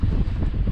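Strong wind buffets across an open field during a metal-detecting outing, a continuous loud low rumble of gusts battering the microphone with no let-up.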